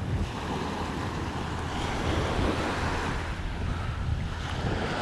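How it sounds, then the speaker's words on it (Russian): Calm sea washes onto an empty beach at Sudak at sunset, a steady soft broadband rush of small waves mixed with wind noise buffeting the microphone, continuous with no voices. "Какое море спокойненькое."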